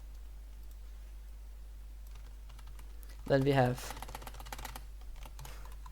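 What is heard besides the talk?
computer keyboard typing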